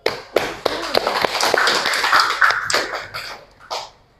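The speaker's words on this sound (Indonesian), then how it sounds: "tepuk tangan dulu untuk kita semua" Students in a classroom giving a short round of applause, scattered sharp claps from a small group rising into a brief burst and then tapering off, with a few late claps near the end.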